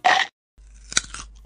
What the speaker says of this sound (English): Evan, you're chewing into the microphone again.